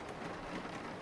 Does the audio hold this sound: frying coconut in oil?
no